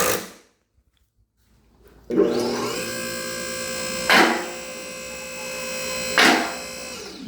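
A Champion TP10F two-post car lift runs with a steady motor hum, then its safety locks engage in two loud metallic clacks, a couple of seconds apart, close by with no talk.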